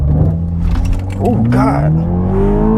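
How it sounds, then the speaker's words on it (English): A 2021 Toyota Supra 2.0T revs hard while held on the brake for a launch, a loud steady engine drone rising in pitch close by, with a startled voice exclaiming over it. "I'm going to brake boost it, foot on the brake and accelerator."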